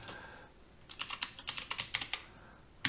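Computer keyboard typing, a quick run of about a dozen crisp key clicks in an uneven rhythm, close and clear over a quiet room, then one last sharp keystroke after a short pause.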